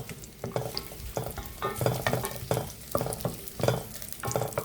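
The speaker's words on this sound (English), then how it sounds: "lemongrass first. Need to stir fry, and even the slices of ginger put together" Lemongrass and ginger slices are stir-fried in hot oil. A steady sizzle runs under repeated scraping strokes of a spatula against the pan, close and continuous, with no talking.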